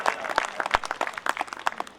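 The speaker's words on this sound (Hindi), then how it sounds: "एक बार तालियां बजाकर उनका भी हम अभिनंदन करते हैं" A small group at a formal gathering claps unevenly to honor a guest, with overlapping sharp hand claps at close range forming brief, scattered applause with no talking.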